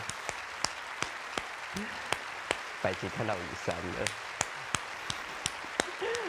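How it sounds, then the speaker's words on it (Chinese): An audience keeps clapping after a stage performance in a steady trickle of separate claps rather than a dense roar, while a voice talks over it at moderate level. "这掌声没有停下来的。"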